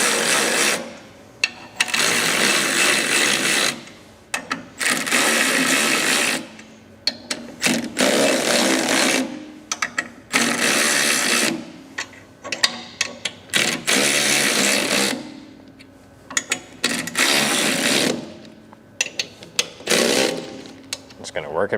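A power tool or ratchet tightens the bolts on a boat propeller in repeated loud bursts of whirring and clattering, separated by short pauses, at close range.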